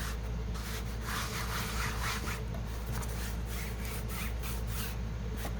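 Faux suede craft piece having its edges distressed, a continuous close rough rubbing and scraping texture with short repeated strokes.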